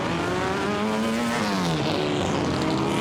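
Race cars at Goodwood's Members' Meeting running a green flag lap, engines droning loudly with a rising and falling pitch as cars pass close by.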